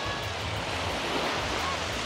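Ocean waves on the beach at Paraty, Brazil wash in as a steady broadband rush of surf, close and fairly loud, with a windy texture and no clear talking.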